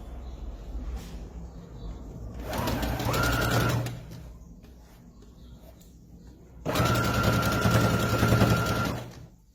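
A sewing machine stitches fabric for crazy-quilt patchwork in a home atelier. Two steady motor-driven runs of a few seconds each are separated by a quieter pause, loud and close.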